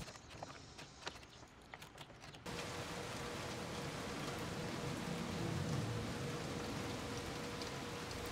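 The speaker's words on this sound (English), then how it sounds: "Unfortunately, it started to rain" Steady rain sets in after a few seconds of outdoor quiet with scattered taps, then falls as a dense, even hiss that stays constant to the end.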